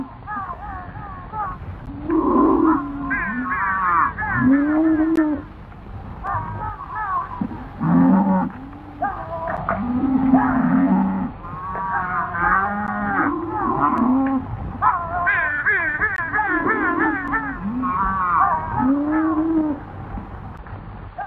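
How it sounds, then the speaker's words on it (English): A large herd of range cattle on an open western spread, many head lowing and mooing in repeated overlapping calls at varying distances, loud and continuous throughout with no talk. "These cattle come from the big spreads up north."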